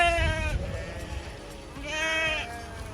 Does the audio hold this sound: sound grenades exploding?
no